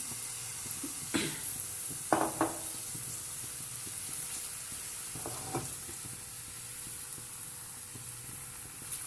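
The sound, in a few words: onion paratha batter poured and spread on hot pan, sizzling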